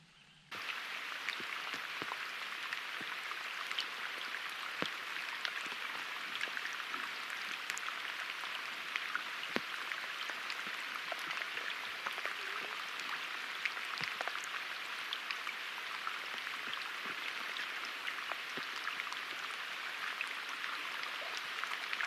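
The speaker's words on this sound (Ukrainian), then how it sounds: "дощ іде, як з вітра. Оце поливає, друзі." Steady rain patters continuously on a surface, a dense hiss with scattered individual drops ticking through it, constant and moderately loud with no voices.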